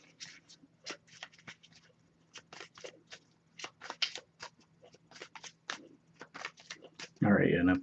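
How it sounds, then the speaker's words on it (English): Tarot cards being shuffled produce quick bursts of papery riffles and soft slaps in irregular clusters, close and fairly clear, ending with a louder rustle. "but I'll give it a few more shuffles."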